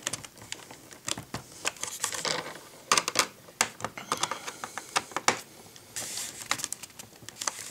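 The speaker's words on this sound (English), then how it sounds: "I'm just going to go with the old-fashioned method here and tighten these down with a big old screwdriver" Small screws in a Sport Cub landing gear being driven with a Phillips screwdriver, giving a run of close, crisp clicks and ratcheting ticks in irregular bursts, with no talking.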